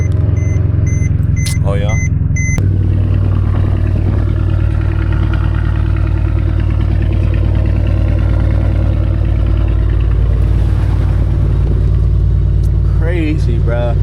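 Mercedes CLS engine on a cold start: an electronic chime and short crank give way to a steady, loud idle that hums on alone, with a few spoken words at the start and near the end.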